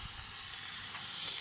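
Steam hissing from water after thermite burned underwater, a steady bright hiss that grows slightly louder toward the end, close by and with no talking.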